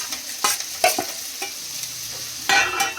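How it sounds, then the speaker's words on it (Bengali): Paneer and capsicum sizzle steadily in a frying pan while a utensil scrapes and clanks against it in irregular stirring strokes, close and fairly loud. "দিয়ে একটুখানি নাড়িয়ে জল দিয়ে দেবো।"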